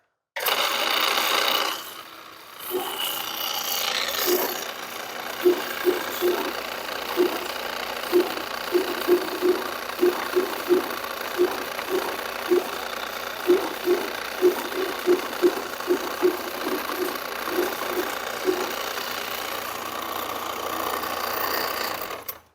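A Pierce Perf-A-Matic P15 tabletop perforating machine runs with a loud steady mechanical hum and a quick rhythmic series of clacks, about twenty evenly spaced strokes, after a short noisy start.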